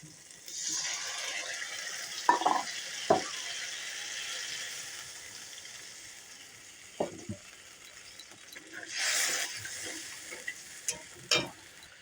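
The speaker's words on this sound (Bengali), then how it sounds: "ঝোলটা ফুটে উঠেছে" Fish curry gravy for rui posto, thinned with water, simmers in a pot with a soft, low bubbling hiss, broken by a few sharp utensil clinks and scrapes.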